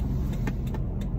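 Inside a moving car, a steady low road and engine rumble fills the cabin with continuous broadband noise and no talking.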